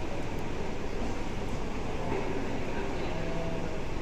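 Inside an underground metro train during a ride, a steady, loud broadband rumble and whoosh of the carriage in motion runs continuously without clear voices.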